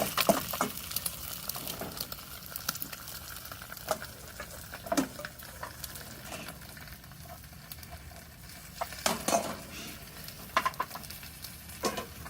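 A fresh hen egg from the garden frying in a pan, with a quiet, continuous sizzle and scattered pops and taps, fairly faint and with no voices.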